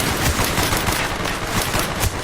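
Rapid automatic gunfire crackles in Call of Duty Black Ops on Xbox 360, a dense stream of loud shots in a continuous burst.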